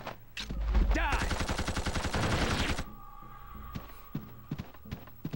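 Rapid gunfire bursts from the PS2 game Blood Will Tell, a dense rattling volley up front that stops abruptly, followed by scattered clicks and thumps.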